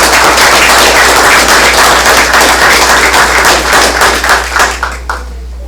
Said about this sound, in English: give them one more round of applause for all that